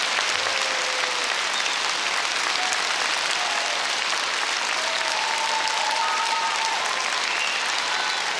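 Concert audience at an anniversary celebration clapping for a singer, dense sustained applause filling the hall at steady loudness, with a few faint whistles and cheers rising above the clapping.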